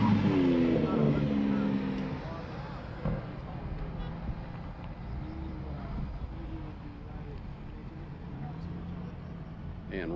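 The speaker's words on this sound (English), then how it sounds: "Now we got Chuck Veth in his GT2 RS." A Porsche GT2 RS race car runs on a circuit, its engine a steady rushing drone under a commentator's voice.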